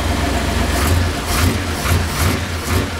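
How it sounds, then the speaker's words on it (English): A 1949 Chevy five-window pro-touring with a big block engine idles steadily with a deep low rumble, carrying a faint repeating tick from a slight exhaust leak and light periodic pulses. "There might be a little bit of an exhaust leak I'm detecting. Just a little bit of a tick."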